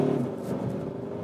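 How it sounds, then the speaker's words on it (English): Skoda Octavia RS diesel estate car accelerating at full throttle, a steady engine drone rising slightly in pitch and holding loud and close throughout, without any voices. "So now let's put down the throttle, because this is the RS version."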